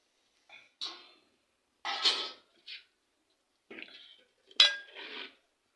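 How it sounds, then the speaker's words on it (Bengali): A knife cuts through a block of jaggery, giving several short, sharp scraping and clicking bursts with pauses between them, close and fairly quiet, with no talking. "তারপরে আমি গুড়গুলা কাটবো।"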